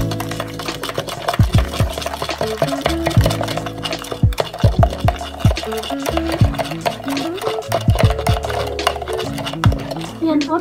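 A spoon stirs milk tea powder and creamer into hot tea, with repeated clinks and scraping against the cup in an irregular rhythm, close and fairly loud, over background music.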